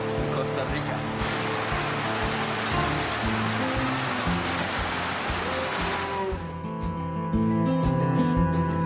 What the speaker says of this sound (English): First day of rain in Costa Rica.